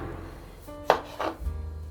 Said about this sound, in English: when you're chopping the potatoes